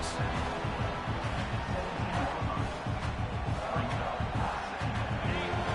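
Stadium crowd in the College Football 26 video game at Tennessee versus South Carolina, a steady roaring wash of noise with low rhythmic thumps underneath, continuous and loud throughout.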